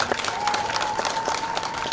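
Audience applause fills a training college ceremony in Zanzibar: steady, dense clapping from a crowd that runs throughout at an even level, with no speech over it.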